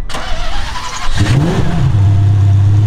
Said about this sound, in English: And I like that starter sound.